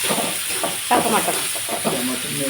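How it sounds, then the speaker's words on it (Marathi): Green peas are tipped into a frying pan of methi matar bhaji and stirred, with a steady close hiss and sizzle under repeated scraping stirs, while a voice speaks over parts of it. "आता टाकलं मटार."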